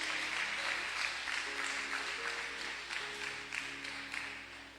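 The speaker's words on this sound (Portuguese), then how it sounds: "Você pode aplaudir Jesus por isso" A church congregation applauds steadily for about five seconds, a broad wash of clapping with faint sustained music or tones underneath and no clear talk.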